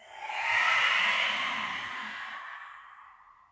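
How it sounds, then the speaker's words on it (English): A single long, breathy yogic exhale made with the tongue stuck out, close and soft, rising quickly then fading slowly over a few seconds. "Exhale with the tongue."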